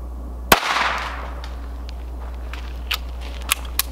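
A single sharp crack from a Walther P22 .22 pistol fired outdoors at a target, followed by faint scattered taps and small knocks, no talking.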